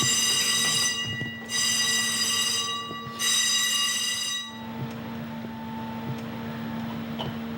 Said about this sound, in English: When you're ready, sound the alarm.